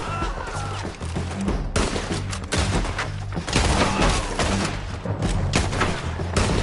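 Gunfire in Red Dead Redemption 2 during a shootout, loud repeated shots and booming cracks going off in dense, irregular bursts with heavy low thumps between them.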